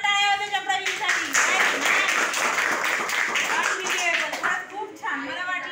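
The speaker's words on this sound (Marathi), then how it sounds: "जोरात टाळ्या वाजवा त्या प्रवीणसाठी" Eighth-grade classroom pupils clap for a classmate, a burst of brisk, uneven hand claps rising after a brief spoken moment and fading near the end.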